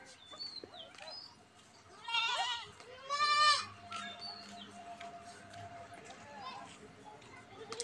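Six goats at a farm bleat in short, wavering bursts, some close and loud, under people talking and other faint farmyard noise.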